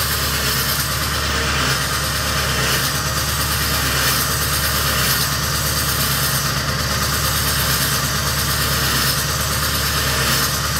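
A 2001 Ford E450 Super Duty van with a 7.3 Power Stroke diesel idles after a cold start, a loud, steady, low rumble with an even clatter that continues unbroken throughout.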